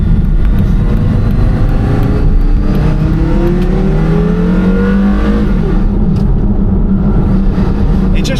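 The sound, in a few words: Porsche Carrera GT engine revving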